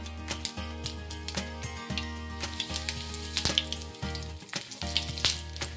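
Mustard seeds and a curry leaf sizzle steadily in hot oil in an appe pan, with sharp intermittent pops and crackles over a continuous frying hiss close by, no voices.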